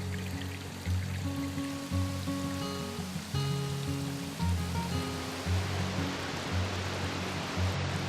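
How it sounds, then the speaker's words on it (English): Rushing water roars in a steady wash from a nearby waterfall, with low tonal hums drifting in and out underneath. "This waterfall is still used to this present day."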